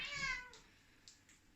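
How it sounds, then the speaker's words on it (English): A pet cat meows indoors, one drawn-out, high, harmonic meow up close at the start, then fading, with only faint room noise afterward. "Okay, so the cat's back in the room."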